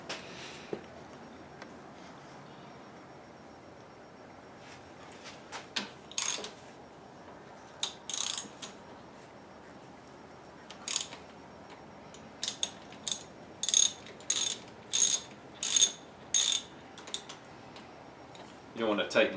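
Ratchet wrench turning thermostat housing bolts on a 2005 Ford Explorer V6, a series of short, sharp clicking bursts that grow more regular and rhythmic toward the end, near and fairly loud over quiet background.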